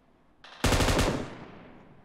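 Gunfire in the mobile battle royale game PUBG Mobile: a short, loud, close burst of automatic fire, several rapid shots run together and ringing out in a fading tail.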